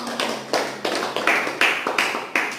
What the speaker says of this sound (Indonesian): Tepuk tangan dulu yang sini.